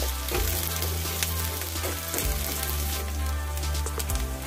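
Ginger-garlic paste and green chillies sizzle steadily in hot oil for a Hindi-style cauliflower dish, a dense, continuous crackle close to the pan with a low steady hum beneath and no talking.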